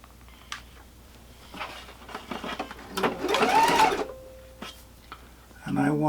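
Sewing machine stitching a huck lace baptismal blanket in short bursts, close by, with pauses and handling noises between runs while a person talks.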